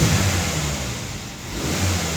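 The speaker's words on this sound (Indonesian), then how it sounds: "kita coba dengan ngegas terlebih dulu" A car engine with a fault that makes it die after starting is revved during diagnostics, a close, steady engine drone that dips slightly in the middle and rises again at the end.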